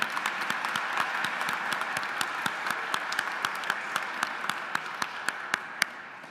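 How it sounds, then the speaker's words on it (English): A crowd applauds graduating nursing students and their families at a pre-commencement ceremony, with steady, dense clapping and a few louder individual claps standing out toward the end. "I'd like to have a big round of applause."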